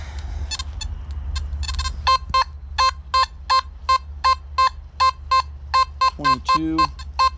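A Nokta Makro Simplex+ metal detector beeping over a silver item: a steady series of short, evenly spaced electronic tones, close and clear, with a brief warbling sweep near the end.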